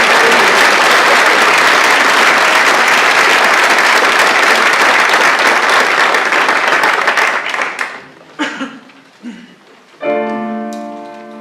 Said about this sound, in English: let's do applaud one time